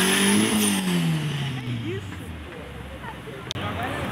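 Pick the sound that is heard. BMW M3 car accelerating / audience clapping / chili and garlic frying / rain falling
BMW M3 car accelerating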